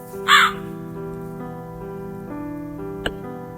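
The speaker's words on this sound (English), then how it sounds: "Hey, Mr. Crow." A crow caws once, short and close, in the puzzle game Cube Escape: The Cave, over a low sustained ambient drone that runs on after the call, with a faint click later.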